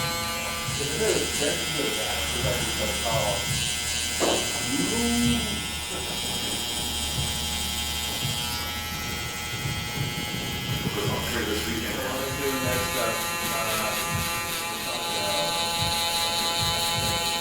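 Electric hair clippers with a 0-guard fully open cut hair while fixing a controversial hairstyle, giving a steady close buzz that runs throughout beneath ongoing conversation.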